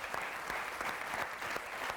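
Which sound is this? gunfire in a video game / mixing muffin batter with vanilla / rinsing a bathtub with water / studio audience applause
studio audience applause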